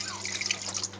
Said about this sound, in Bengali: কড়াইয়ে দিয়ে দিলাম কিছুটা পানি।